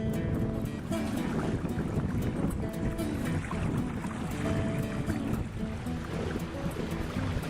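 Wind rushes across the microphone while water churns and splashes steadily against a sailboat's hull as it moves at about 5 knots on a beam reach on the Great Salt Lake, with no voices.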